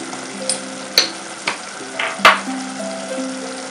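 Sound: sautéing ingredients in a pan for pizza

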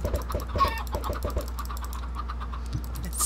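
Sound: chickens clucking in a video game

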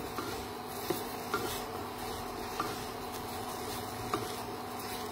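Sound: whole wheat flour being stirred into a cooking mixture

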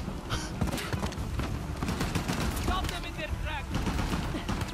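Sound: enemies shooting gunfire in Uncharted: The Lost Legacy video game

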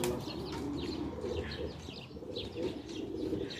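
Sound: pigeons cooing in a bird garden

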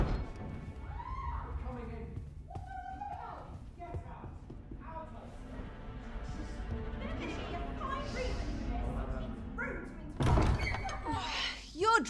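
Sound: door banging in video game Dragon's Dogma II

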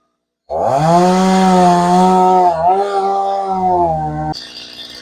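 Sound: cutting down a coconut tree into pieces, likely chainsaw

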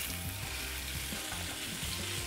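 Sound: halibut frying in oil in a non-stick pan

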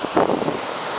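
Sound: waves breaking over rocks on a stormy shore

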